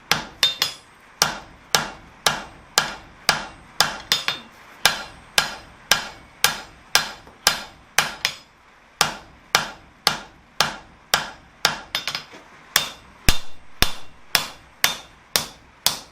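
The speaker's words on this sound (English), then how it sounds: "I did use the power hammer for a moment to take this thing down" Heavy rhythmic blows of a power hammer striking hot steel while forging a flower coat hook, steady and loud, dozens of sharp impacts in a regular beat with one short pause.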